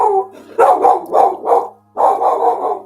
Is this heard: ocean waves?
no